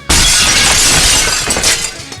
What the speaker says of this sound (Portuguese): tem a ideia de quebrar o vidro do local onde moram as cobras